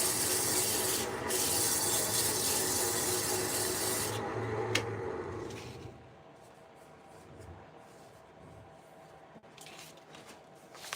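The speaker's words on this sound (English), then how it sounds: "I'm going to sand it a little more." Sanding a lathe-turned wooden birdhouse with a steady, loud, rough abrasive rub for about six seconds. It then drops to a much quieter background with faint scraping.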